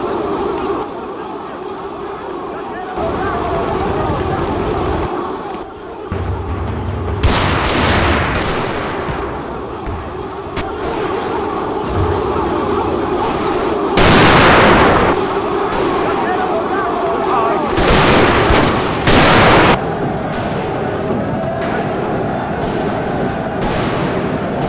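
Battle sounds from a Total War game set in the 1879 Anglo-Zulu War, with rifle volleys, Gatling gun and 7-pound artillery fire crackling in loud repeated bursts over a constant roar, while a narrator speaks throughout.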